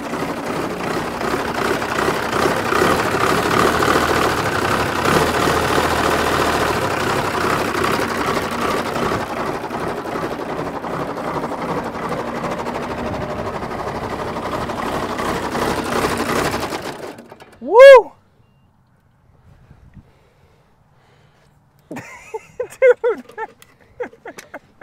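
An 1896 Case diesel tractor engine running with a loud, rapid chugging clatter for about seventeen seconds, then cutting off into near silence before a few faint knocks and sounds at the end.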